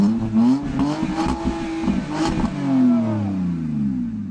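A BMW E36 six-cylinder with a valved exhaust revs hard and close, its note climbing and falling through several throttle blips before settling into a long, rising pull.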